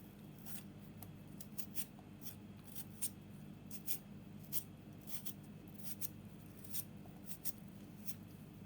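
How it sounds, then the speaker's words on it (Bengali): Raw potatoes being peeled by hand for French fries: soft, irregular scraping strokes repeat close by, each brief and quiet, against a low steady background. "আলুটা আমি এইভাবে ছিলে নিতেছি, দেখেন খোসা ছাড়িয়ে নিব।"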